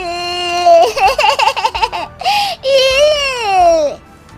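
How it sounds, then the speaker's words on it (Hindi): An infant cries in rising and falling wails, with a shaky sobbing stretch, a brief gasp, then a long, loud drawn-out wail that trails off near the end. "ये बच्चे के रोने की आवाज कहाँ से आ रही है?"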